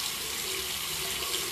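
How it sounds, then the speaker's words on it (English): Tap water runs in a steady, continuous stream while a makeup brush is rinsed under it, close and fairly loud throughout. "I'm going to rinse this brush out."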